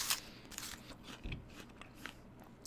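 Someone bites into a crunchy Jazz apple, with a few sharp crisp crunches and quieter chewing crackle up close over about three seconds.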